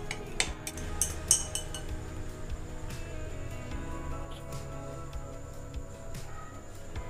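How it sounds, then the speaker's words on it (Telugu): A spoon clinks and scrapes against a glass while stirring badam mix powder into milk, a steady run of light metallic taps and swirls close by with no talk. "పాలల్లో 2 స్పూన్స్ వరకు వేసుకుందాము. వేసుకొని కలుపుకోవాలి."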